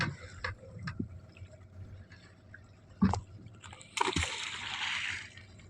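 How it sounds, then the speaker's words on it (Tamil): Water is poured and splashed onto a fishing net aboard a small fishing boat, with scattered drips and slaps, then a sharp splash and a longer gushing pour near the end, close by and moderately loud. "மாலில் அடிக்கடி தண்ணி ஊற்றணும்."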